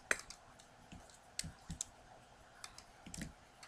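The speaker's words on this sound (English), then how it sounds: "Click." Quiet, sharp computer mouse clicks, a handful of isolated taps spaced irregularly over a faint background.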